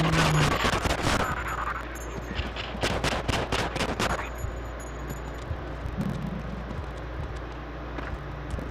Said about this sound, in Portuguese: o bicho me deu um tiro